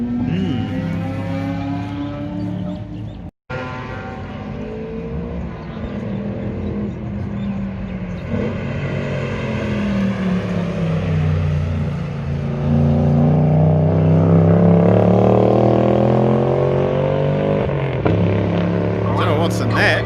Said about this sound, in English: MRX Mini GTR lookalike go-karty drifty thing with the big single cylinder thumper in the back there.